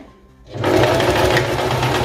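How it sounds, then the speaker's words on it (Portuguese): A sewing machine starts up after a short quiet moment and runs a straight seam on a plaid circle skirt, a loud, close, continuous whirring hum that holds steady until the end. "Nós vamos passar aqui uma costura reta"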